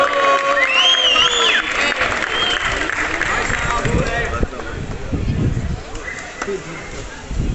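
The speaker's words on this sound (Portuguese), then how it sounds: "Gratidão pelas palmas." A rap battle audience at Batalha do Villa claps and cheers loudly and steadily, then the crowd noise thins after about four seconds while an announcer talks over it.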